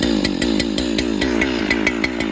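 An old chainsaw engine, recently flooded, idles close by with a steady, rapid rattling putter, loud and continuous without any talking.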